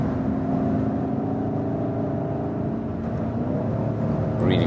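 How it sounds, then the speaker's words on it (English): BMW M550i 5 Series with its V8 petrol engine growling while driving, a steady low droning rumble heard from inside the car, holding an even pitch throughout with a slight rise near the end. "It's a nice growling sound, isn't it?"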